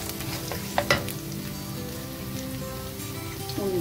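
Garlic, curry leaves and cashews fry in hot oil for a Kerala-style sweet ginger curry, giving a dense, crackling sizzle like rain on a surface, with a couple of brief stirring clinks early on.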